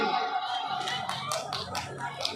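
Audience clapping during a monk's speech in a hall, a dense, steady patter of many hands applauding at moderate loudness with no voice over it.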